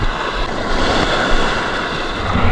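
Rough, choppy sea waves wash and churn loudly and continuously near the microphone, mixed with gusty wind noise, during an abalone diving outing at a coastal spot.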